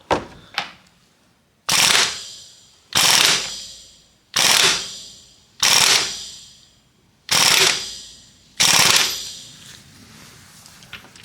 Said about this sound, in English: I rather use an impact wrench on that one